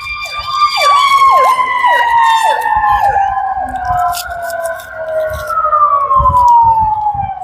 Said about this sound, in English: Pardon that siren.